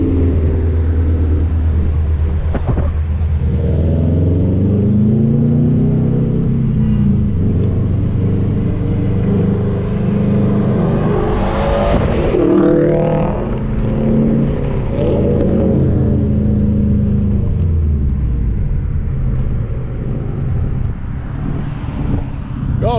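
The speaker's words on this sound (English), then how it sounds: "a little drive-by of a 2019 STI, which is my friend's, and he has the Remark catback exhaust, non-resonated" A 2019 Subaru STI fitted with a Remark non-resonated catback exhaust drives past, its loud engine and exhaust rising from a steady rumble to a revving peak midway, then fading away.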